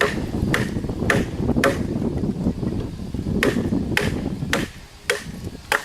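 A quarter-inch-thick BK2 knife is batoned through timber at a camp, giving a series of about eight sharp, ringing knocks at an uneven pace, close and loud over faint crackling wood.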